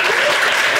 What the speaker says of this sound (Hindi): उनके लिए एक बार ताली बजाओ।